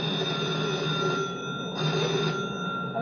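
Telephone ringing in a 1957 television advertisement, a steady electric bell tone that pulses and fades slightly, fairly loud over a faint background hum.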